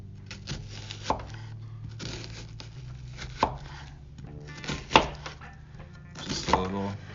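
Knife finely dicing an onion on a cutting board, a run of crisp chops with a few sharper, louder knocks, close by, alone with no talking.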